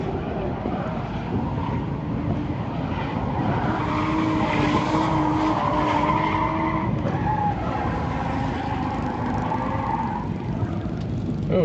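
Drift cars skid through a battle in the Ultimate Drifting Challenge Pro Light class, one a Nissan 350Z, with tires squealing and engines roaring. The sound is loud and continuous, and a commentator's voice runs faintly underneath.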